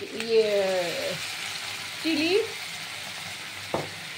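Garlic, green chili and ginger fry in oil and are stirred, a constant close sizzle with a scrape or knock of the spoon near the end, while someone speaks over it.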